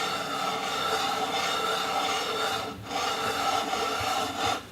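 A wooden boot piece being rubbed by hand over sandpaper to polish out marks left by a mechanical sander, a steady continuous rasping scrape with slight swells and a brief break partway through.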